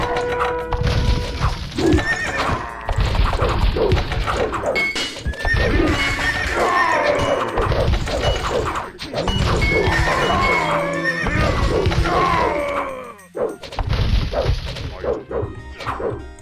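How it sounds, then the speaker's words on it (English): Horse archers' horses in the Age of Empires video game neigh and whinny repeatedly over clattering galloping hooves, loud and busy battle sounds with overlapping calls. "Oh, a lot of horse archers."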